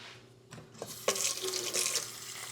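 Tap water running into a pot of split pea soup with ham, a close, hissing stream that starts abruptly and continues steadily, with no talking.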